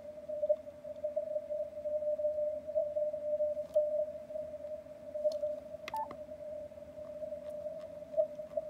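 Weak CW Morse signal received on a Yaesu FT-891 transceiver, a steady continuous tone sitting over faint band hiss with scattered small crackles, low in level and heard alone without talk.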